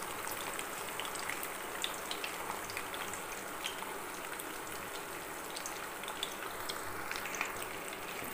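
Ridge gourd and egg frying in oil, left untouched in the pan, give a steady, soft sizzle with fine crackling pops that runs evenly throughout, without talk.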